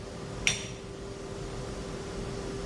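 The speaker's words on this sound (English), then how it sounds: "And then I can tap down so that my parallels don't move." A single metallic tap of a hammer on parallels seated in a CNC machine vise, one sharp clink over steady machine-shop hum.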